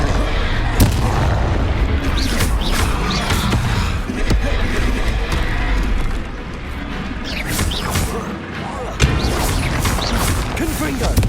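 Repeated Bombarda spell explosions in Hogwarts Legacy, loud booming blasts and crashes scattered across the stretch, layered over constant game rumble, with voices shouting spell names between them.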